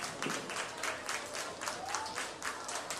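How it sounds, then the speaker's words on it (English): A crowd around a livestock show ring at a county buckwheat festival applauds in a steady patter of many hands, moderately distant and fairly quiet, with no speech over it. "Let's give them all a round of applause"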